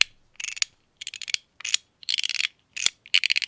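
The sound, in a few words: MOT Groove fidget toy up and down clicking, muted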